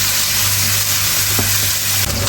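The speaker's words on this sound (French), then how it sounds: "Et là je vais les faire griller." Squid grills in a hot pan, giving a steady loud sizzle and crackle throughout with a brief stirring scrape near the end.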